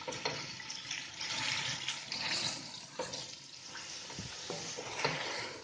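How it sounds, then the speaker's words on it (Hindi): Chicken pieces frying in hot ghee for kabsa, a dense continuous sizzle and crackle with occasional stirring scrapes, close and steady, no talking. "चिकन को भी इसमें भूनकर गोल्डन ब्राउन कर लेना है।"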